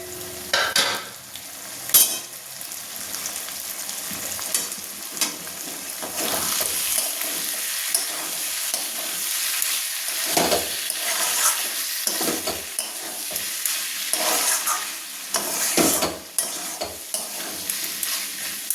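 Fig curry (dumur) being stir-fried down in a pan, spatula scraping and stirring over a steady sizzle, with louder scrapes now and then across the whole stretch and no talking.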